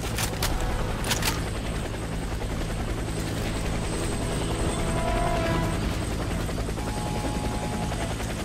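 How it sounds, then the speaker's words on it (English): Helicopter in the video game Warface during PvE gameplay, a loud continuous rotor and engine drone throughout with a couple of sharp bursts near the start and faint tonal effects midway. "Proceed to the helicopter."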